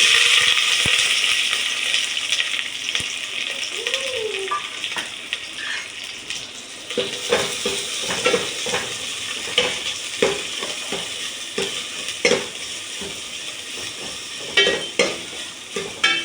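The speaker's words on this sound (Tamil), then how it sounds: "வெங்காயம் கொஞ்சம் வதங்கட்டும்" About 100 grams of chopped shallots and a green chili sauté in a pan for keerai sambar, giving a loud continuous sizzle laced with frequent clattering stirs and scrapes that grow more rhythmic toward the end, with no one speaking.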